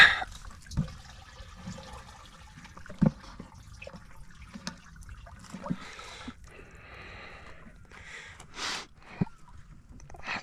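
A homemade crab trap with a lidded container sinks and fills with water, giving gurgles, sloshes and bubbling bursts spread unevenly across the stretch, close by and with no talking.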